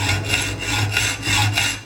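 A saw blade is drawn back and forth slowly against a thumbnail guide to cut into a microphone mount for a Canon M6 camera, giving close, rhythmic rasping strokes of even loudness.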